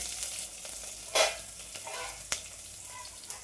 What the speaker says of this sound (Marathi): जिरं पण टाकते मी, म्हणजे एकच टाकते कुठलं तरी, जिरं किंवा राई. राई टाकली. आता मस्त जिरं, लसूण आणि मिरची.